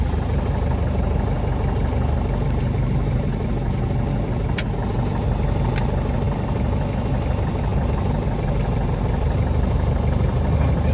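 Small piston aircraft engine running up before flight, a loud, steady drone with a constant rumble throughout and a couple of faint clicks.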